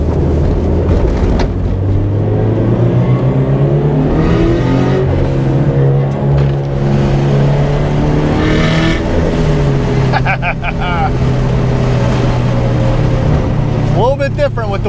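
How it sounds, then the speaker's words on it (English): A turbocharged Subaru BRZ fitted with a screamer pipe revs up and down during driving, a loud, close engine note rising and falling with sharp whooshing bursts and a brief chirp near the end, with people talking over it. "I feel like the throttle blipping is just, it's not what it used to"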